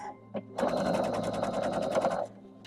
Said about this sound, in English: Now I'm going to take this piece and sew it onto this, because now I can sew it the entire length.